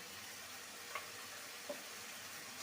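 Mutton with spices fries in a pan and is stirred, making a faint, even sizzle with two small clicks from the spoon.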